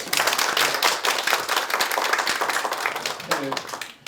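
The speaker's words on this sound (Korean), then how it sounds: "박수 한번 주십시오" Audience clapping at a provincial signing ceremony for a young couples' housing improvement program, brisk and fairly close, with a voice speaking over the claps near the end.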